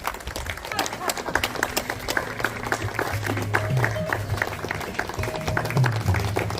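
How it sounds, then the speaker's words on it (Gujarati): Audience applause at a Guru Purnima celebration of a yoga group, a dense steady patter of many hands clapping that keeps going throughout, with talk and music mixed in underneath. "તાળીઓનો ગડગડાટ ચાલુ રાખશું"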